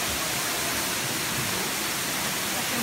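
The Grand Golden Waterfall inside a cave pours continuously, a dense, loud roar of falling water filling the space with steady broadband rush and no distinct breaks.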